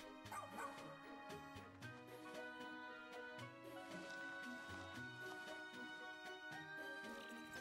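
A giant dog boss in the video game Pikmin 4 barks and yips repeatedly over looping game music and sound effects, the barks short and fairly loud in the mix.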